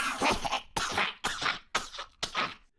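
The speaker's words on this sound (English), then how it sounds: "Harry hears a strange coughing and gagging noise behind him." An ugly old bird like a featherless turkey, perched on a golden pole, coughing and gagging in five loud, close, rasping bursts separated by short pauses.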